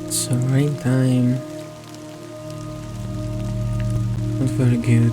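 Rainfall in Death Stranding hisses steadily beneath a humming in-game drone, with a voice speaking briefly at the start and again near the end.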